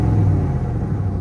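A 2023 RAM 1500 with a 5.7L HEMI E-Torque V8 and Magnaflow cat-back exhaust, a deep, steady, loud exhaust rumble held at an even idle throughout.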